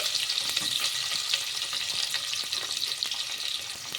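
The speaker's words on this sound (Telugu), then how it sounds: "ఇలా వేసుకున్న తర్వాత ఇందులోకి సన్నగా కట్ చేసి పెట్టుకున్న ఉల్లిపాయ ముక్కల్ని వేసుకోవాలి" Thinly sliced onions fry in hot oil with whole spices and a bay leaf. A dense, bright sizzle holds steady up close throughout, broken by faint crackles and stirring scrapes, with no voice over it.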